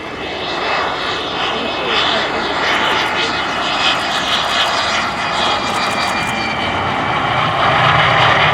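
A U-2 Dragon Lady jet flying a low approach at the RIAT 2024 airshow roars loudly and continuously, a broad engine rumble that swells slightly toward the end.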